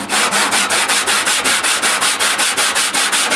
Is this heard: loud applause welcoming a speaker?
no